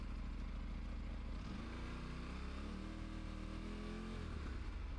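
Aprilia RS457 sport motorcycle engine heard close up, a steady droning note that rises in pitch as the revs climb and then falls back sharply near the end, fairly faint overall.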